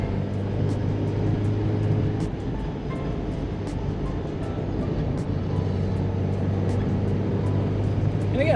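A 1986 Porsche 944, modified, driving along a road, its engine a steady droning hum heard from inside with a constant whooshing road and wind noise throughout.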